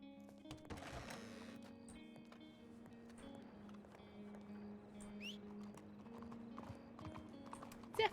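Hooves of a horse in the RedM game clip-clop at a steady walking rhythm, close and clear, with a few brief metallic tack and ambient clicks.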